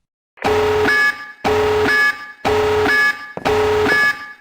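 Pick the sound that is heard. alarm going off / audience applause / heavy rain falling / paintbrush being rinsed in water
alarm going off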